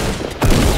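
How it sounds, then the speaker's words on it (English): Gunfire in the Fortnite video game during a squad firefight, a sudden loud burst of shots that starts partway through and keeps up as a dense, sustained volley to the end. "Being shot at."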